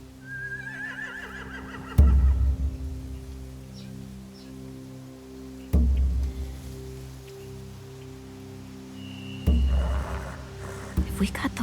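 Horses neigh and whinny in The Walking Dead: The Final Season game, a high whinny early on, then three loud low bursts of stomping or commotion over a steady background hum.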